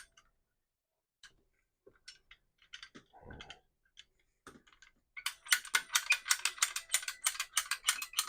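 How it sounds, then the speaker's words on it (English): Pipe cutters snipping through hydroponics hose, starting as a few sparse clicks and faint rustles, then a dense run of sharp, rapid ratcheting clicks close to the microphone over the last three seconds, with no talking. "I'm going to be using some pipe cutters here. This seems to cut nice and easy."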